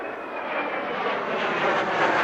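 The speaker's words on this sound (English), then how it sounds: "After what seemed like a long absence, Allied aircraft soared overhead." Allied aircraft soaring overhead in the video game Ace Combat 04, a steady broad engine roar that swells slightly, loud and continuous with no speech.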